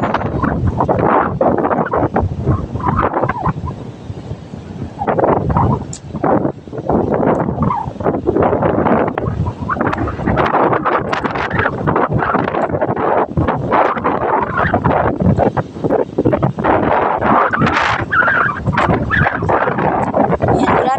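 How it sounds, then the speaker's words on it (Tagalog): Loud, relentless wind buffets the microphone by the shore, a dense roaring rush that barely lets up throughout. "Sobrang lakas ng hangin. Nakakarindi ang hangin dito sa tabing dagat."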